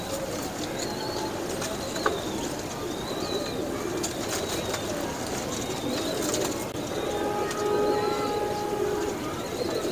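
Pigeons coo repeatedly at close range among the birds of a kept pigeon pair, with soft chirps and other bird calls mixed into a steady background of flock noise.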